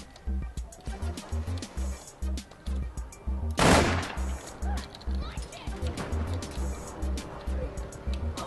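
Gunfire in the online game APB Reloaded, a rapid rhythmic burst of booming shots followed by a louder blast and more firing, close, with a player talking over it.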